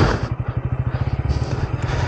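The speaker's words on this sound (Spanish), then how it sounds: "aquí baja sola la moto" A KTM Duke 200 motorcycle coasts downhill with its engine idling in a steady, fast pulsing putter, close and loud, with rumbling wind noise over it.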